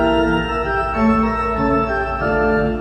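A Bach fugue excerpt plays with sustained interweaving melodic lines in a dense, steady texture, full and continuous for a few seconds with no voices.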